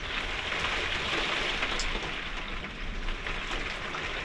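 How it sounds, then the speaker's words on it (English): Rain falls steadily outside a camper van, a dense, even hiss of drops on the surface that continues without a break, fairly loud and close. "the rain's coming down"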